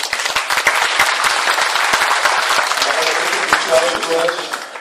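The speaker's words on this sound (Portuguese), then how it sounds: "Vamos dar um aplauso para o Klaus" Audience applause at an agile software conference session in Brazil, a dense wash of many hands clapping steadily for several seconds, loud and close, with a few voices faintly audible underneath.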